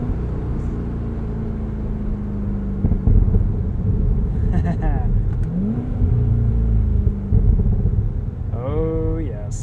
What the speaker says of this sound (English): You really get to hear the exhaust with the top down